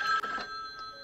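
A telephone rings in a fan-made Halloween video game, a short electronic trill that sounds loud at first, then fades into a brief lingering tone, with no talking.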